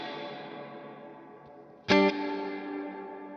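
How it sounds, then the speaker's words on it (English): Electric guitar through a Walrus Audio R1 reverb pedal on its hall setting: a sustained, washy tail fades out, then a sharp new strum rings into a long, darkening reverberant decay. "This Hall seems to like get darker as it decays"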